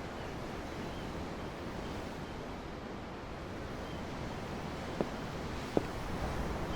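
Steady wash of ocean waves and surf heard from aboard a ship in Tales of Arise, a soft continuous roar with a couple of faint clicks near the end and no talking.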